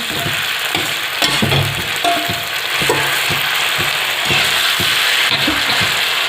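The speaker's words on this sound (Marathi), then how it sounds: "चला तर आपण आता त्याला तळून घेऊ मी आता ठेसा तळायला एक पै तेल टाकलेली आहे" Green chili thecha fries in a little oil, producing a loud, close crackling sizzle with intermittent scraping stir strokes and clunks against the pan, no voices.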